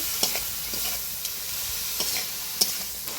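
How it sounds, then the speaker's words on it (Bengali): Greens with fish oil, turmeric and salt stirred in a pan over heat, a soft steady sizzle with scattered scraping taps of the spoon against the metal, close and without talk. "এবার দিয়ে দেবো হলুদ, লবণ। ভালোভাবে নাড়িয়ে নেব।"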